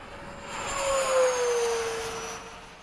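A model F-15 jet flying in the dark emits a steady whooshing whine, swelling louder as it passes nearby and then fading slightly, with a faint tone gliding down in pitch and no talking.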